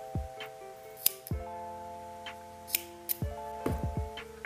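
Scissors snip off yarn ends in a few sharp, close, quiet cuts, separated by soft handling and rustling of the yarn.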